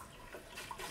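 Water splashes and runs briefly while a soymilk maker jug is rinsed out after scrubbing sticky soy residue, a short close wash of flowing liquid.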